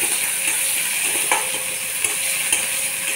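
Chopped ginger, garlic and onion with asafoetida stir-frying in a pan for a potato bhaji, a loud steady sizzle with occasional soft scrapes of stirring.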